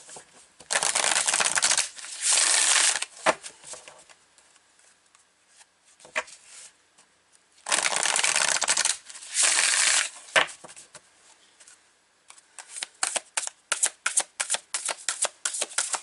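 Tarot cards shuffled by hand at close range: two paired bursts of riffling swish, then a run of quick flicks and soft slaps as cards are cut and pulled, with no talk.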